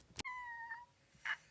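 A person's voice imitates a cat's meow in a short, quiet sequence: a sharp onset, a drawn-out meowing cry, then a brief higher squeak.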